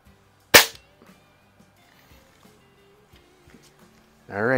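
A 1920s Haenel Model 1 vintage air rifle fires a single sharp, loud shot during an airgun competition, followed by quiet handling clicks and a brief burst of sound at the end.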